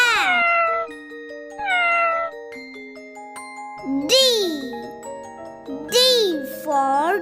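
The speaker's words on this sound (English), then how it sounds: "C for cat." A cat meows twice, clear and close, with rising and falling cries that follow sung lines of a children's alphabet song.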